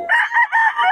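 A rooster crows once at a chicken market in Bocaue, a close, loud cock-a-doodle-doo in several pulsing segments that fills the whole second, with no talk over it.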